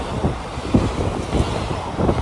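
A Villupuram SF Express train on a Tiruvannamalai to Renigunta run gives a close, steady rumble with rhythmic clattering surges and a little wind buffeting.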